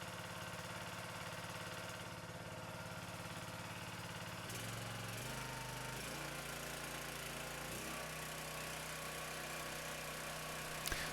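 A 2007 Ryetec Senior S1 H6 hydraulic log splitter's 6.5 horsepower Honda GX200 200cc petrol engine runs steadily, with a dip and shift in pitch partway as the load changes, near and continuous with no talk.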